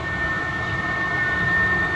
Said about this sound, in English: but that's the exhaust.